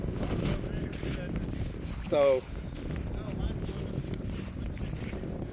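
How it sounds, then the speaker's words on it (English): Strong wind buffets the microphone outdoors at a backpack armor firing test, a low rumbling roar under a voice, with a short tonal squeal partway through. "It's super windy right now."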